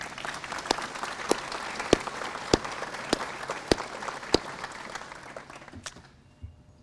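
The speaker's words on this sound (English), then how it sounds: "Let's give one another a round of applause." A crowd at a Memorial Day speech gives a round of applause, steady clapping from many people with a few sharp nearby claps standing out, tapering off toward the end.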